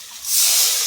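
Water poured into a hot pan of frying spices, chillies and small new potatoes for Bengali aloo dum, giving a loud, close hiss of sizzling and steam that swells after a moment and holds steady.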